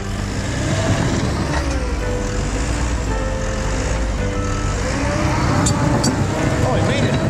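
A vehicle drives in steadily at a pipe installation site, its engine a loud continuous rumble throughout, with faint voices underneath.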